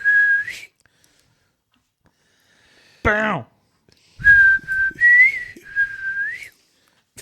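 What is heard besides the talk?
people whistling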